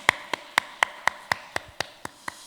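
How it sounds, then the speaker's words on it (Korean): Rhythmic, evenly spaced claps from a church congregation giving glory to God during a Sunday service, about ten crisp beats in quick succession against a quiet room. "박수로 하나님께 영광을 돌리겠습니다"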